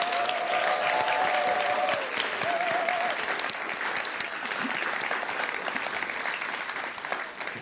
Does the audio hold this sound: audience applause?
yes